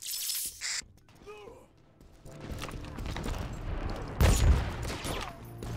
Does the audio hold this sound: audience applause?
no